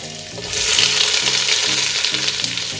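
Chopped garlic and onions hit hot oil and burst into a loud, steady sizzle that begins about half a second in, with faint stirring scrapes underneath.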